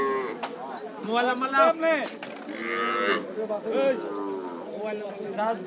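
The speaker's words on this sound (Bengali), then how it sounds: "এখানে একটা বকনা বাছুর দেখতে পাচ্ছেন" A young heifer calf moos several times in a row, close and fairly clear, with drawn-out calls separated by short pauses, at a cattle market in Rajshahi, Bangladesh.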